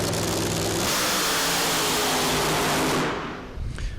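A funny car on a drag strip roars at full throttle in a loud, sustained blast, then the driver lifts off the gas and the engine noise drops sharply into a fading rumble.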